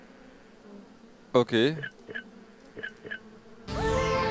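Bees buzzing in the video game Escape Academy, a few short droning bursts rising and fading between spoken words, followed by a louder continuous sweep of game sound at the end.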